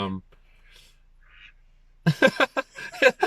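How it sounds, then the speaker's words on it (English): Ducks quack near a street where cars pass, a brief quack at the start, then faint calls, followed by nearby people talking. "So we're watching cars nearly run over ducks."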